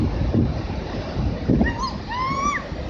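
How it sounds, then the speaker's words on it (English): Large sneaker waves surge far up a beach, a steady broadband wash of surf and wind buffeting the microphone across the clip, with a few faint high whistling tones near the end. "These waves can be many times larger than the others, move faster, and surge much farther up the shore."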